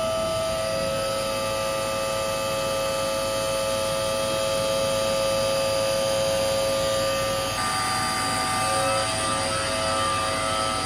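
A CNC mill machining billet aluminium intake runners at 6,500 RPM gives off a steady, close tonal whine with a constant droning hum beneath it, unbroken throughout.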